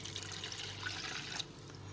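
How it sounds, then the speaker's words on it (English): A cup of water is poured into chicken cooking with spices in a pan, giving a steady, close trickling wash that fades out near the end. "I will add in a cup of water"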